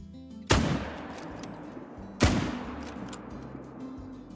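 Two loud rifle shots fired at blackbuck in the hunting video game Call of the Wild, each a sharp crack followed by a long fading echo, spaced under two seconds apart with no talk.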